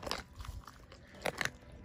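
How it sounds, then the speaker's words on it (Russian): Quiet wet crunching and tearing bites as a lion eats raw meat, a few sharp cracks clustered together amid soft chewing, close up with no voices. "Хрюшка так хрустит."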